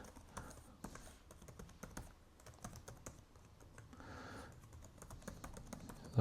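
Fingers tap out an email address on a computer keyboard, a quiet, irregular patter of soft key clicks with brief pauses, ending in a slightly louder keystroke.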